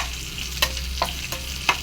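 Spices for tempering a raw banana curry sizzle in hot oil, a quiet continuous frying hiss broken by four sharp stirring scrapes of a spoon in the pan.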